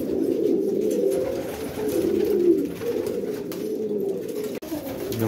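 A white bar male pigeon coos steadily and fairly close, a continuous low rolling murmur throughout with little pause, no talking over it.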